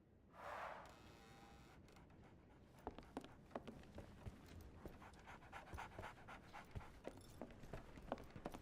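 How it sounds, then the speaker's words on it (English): A dog in the Sherlock Holmes The Awakened video game pants in quick, steady breaths, close and quiet, with a brief whoosh at the start and scattered light ticks and taps throughout. "So, Barnes has a dog now."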